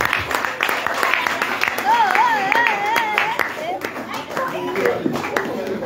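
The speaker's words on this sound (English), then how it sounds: "put your hands together for our Father" A church congregation claps together for its pastors at a Bible school graduation, a dense steady patter of many hands mixed with cheering voices and sustained singing or calling over the top.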